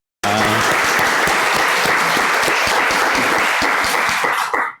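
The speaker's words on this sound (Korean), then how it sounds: "우리 말씀 전해주신 이석호 목사님께 다시 한번 감사의 박수를 보내겠습니다." A church congregation at a Sunday worship service bursts into sustained, loud applause for the pastor, a dense wash of many hands clapping together that holds steady for several seconds and then cuts off abruptly.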